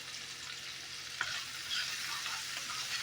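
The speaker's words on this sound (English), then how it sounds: "Give it a little stir." Cabbage and smoked sausage links sizzle in a pan in a continuous close hiss, with a single sharp clack of stirring partway through.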